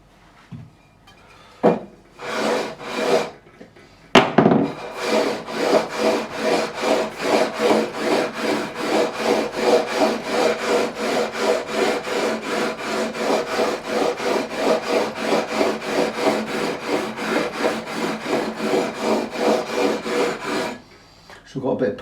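A levelling beam with abrasive paper is rubbed along the frets of a Harley Benton TE-70 Deluxe electric guitar, giving a long run of steady, rhythmic back-and-forth scraping strokes after a few separate opening swipes, close and fairly loud.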